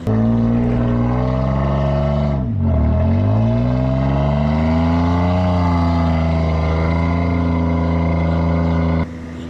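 A car's engine revs hard and steadily while the car is stuck in beach sand, with a loud sustained drone that dips sharply once and then climbs again before cutting off near the end.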